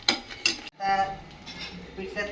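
Metal utensils clink and scrape against a pot as thick besan pitla is stirred and scooped out after cooking, with a few sharp knocks followed by softer scraping, fairly close.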